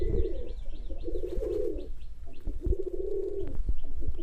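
A male Giribaz pigeon coos close by in three long, throaty phrases separated by brief pauses, with faint chirps in the background, at a pigeon farm.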